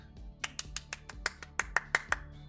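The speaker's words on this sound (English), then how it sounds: "you hear the clap" A run of about a dozen crisp, sharp claps from the video game Rave Heart, arriving in a quick uneven rhythm, close and fairly quiet, with no talking.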